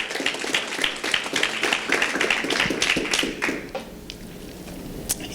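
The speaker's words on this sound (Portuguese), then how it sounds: "Será que você pode dar uma salva de palmas a Jesus por isso?" A church congregation breaks into a dense round of applause, many hands clapping together steadily for several seconds before it thins out and fades into a quiet room.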